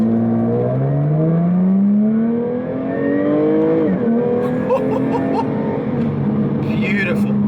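A Jaguar F-Type S Coupe engine in race mode revs up and climbs in pitch as it accelerates, loud and close, then shifts and pulls again with a low whine.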